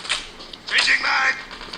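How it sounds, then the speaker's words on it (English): A weapon magazine reload in a mobile first-person shooter produces quick mechanical clicks and clacks. An in-game voice call-out and other game audio sound over the reload. "Changing mag!"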